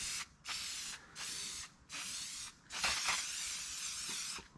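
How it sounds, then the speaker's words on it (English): Slick Shine protectant sprayed onto a dirty motorcycle and its frame from an aerosol can, four close, loud hissing bursts of about a second each with short pauses between them, no talking. "you spray it on, and I mean, it just goes away"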